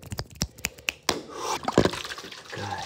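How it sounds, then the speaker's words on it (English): ASMR-style water sounds close up: a run of sharp drips and plops in quick succession, then a brief wash of pouring or splashing liquid, with soft trickles trailing off. "Focus on the water sounds."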